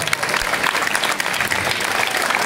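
Audience applause for a girl at a casting for princess and knight roles, a dense wash of clapping held steady throughout, moderately loud, with a few sharper individual claps standing out and a faint murmur of voices beneath.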